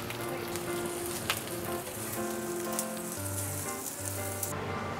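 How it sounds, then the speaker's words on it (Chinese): Pan-fried buns sizzle steadily in a hot pan on a food stall stove in Yuanlin, Taiwan. The frying hiss is continuous and fairly close, with faint tonal background sounds underneath. "然后现在我要来关心一下我的煎包了"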